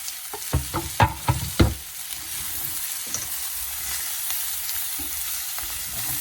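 Italian sausage hitting a hot pan of seared Brussels sprouts, a few sharp clattering knocks as it drops in, then a steady close sizzle with no talking.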